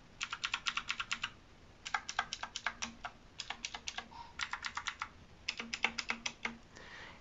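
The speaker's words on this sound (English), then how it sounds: "I'm going to go ahead and do a full press on some of the keys just so you can hear them." Keys on a HIWING HI200 Bluetooth mechanical gaming keyboard are pressed in quick bursts of sharp, clicky strokes with short pauses between runs, close and clear with no talking.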